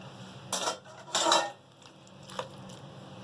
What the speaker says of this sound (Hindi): ये हमने जो गोश्त की बोटियां बना के रखी है, हम सबसे पहले ये डालेंगे